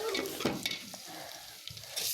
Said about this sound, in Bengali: এখানে আমি পেঁয়াজ আর রসুন কাইটা আমি ভাজা ভাজা করতেছি